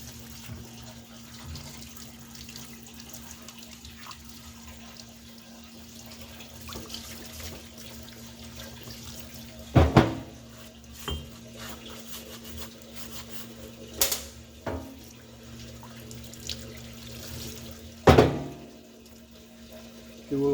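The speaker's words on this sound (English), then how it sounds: "So we got them in the washer. We're going to get all the grit out of them." Parts washer rinsing grit from cam bearings for a 383 small-block Chevy, a steady running-water wash with occasional sharp metallic clinks and knocks of parts, nearby and moderately loud.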